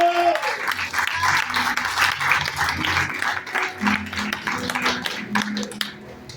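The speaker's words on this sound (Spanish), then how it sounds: "déle aplausos a Jesús porque Él está vivo" A church congregation applauding steadily for several seconds, a warm wash of clapping with a voice audible underneath.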